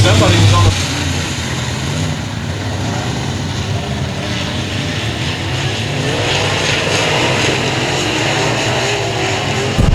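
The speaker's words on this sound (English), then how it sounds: "William Gould bumping the rev limiter on that thing, having to get out of the throttle back into it" A dirt track race car engine at a heat race roars hard and drones on near the rev limiter, with a commentator talking over the steady engine noise throughout.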